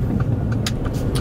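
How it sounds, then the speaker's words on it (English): A truck passes very close on the road, a loud steady low rumble of engine and tire noise with faint clicks on top and no talk. "this fucking truck is so close to me"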